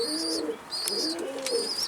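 Repeated high, thin calls of chicks begging for food in short bursts over a steady low cooing murmur, close by, with no talking.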